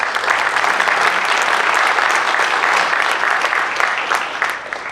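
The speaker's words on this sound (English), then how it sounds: "Round of applause for the Mayor." A crowd at a city veterans recognition ceremony applauds the mayor: sustained, even clapping from many hands that holds for about five seconds before starting to taper at the end.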